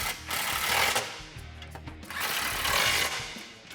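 A 13mm socket on an extension tightens exhaust bolts above the sway bar while a Magnaflow cat-back exhaust is fitted to a 2018-2020 Mustang GT, with two close bursts of rapid metallic ratchet clicking and no talk.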